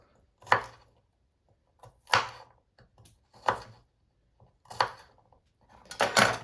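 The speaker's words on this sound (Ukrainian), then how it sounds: "Я отак от зубчик перерізаю на 4 частинки." A knife cuts garlic cloves into quarters on a board in five sharp, evenly spaced chops about a second and a half apart, the last one a quick double strike. No one talks.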